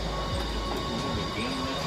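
Subway train running through an Atlanta station, a steady loud rumble of rail wagons with faint wheel squeal, continuous and close throughout.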